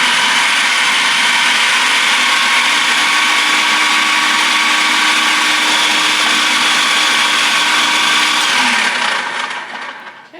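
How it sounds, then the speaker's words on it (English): A food processor runs continuously, whirring loud and close as it blends deviled egg filling for green goddess deviled eggs, then winds down and stops at the end. "This is a food processor machine."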